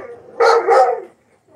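Two quick dog barks in a row, close and loud, followed by a short quiet tail.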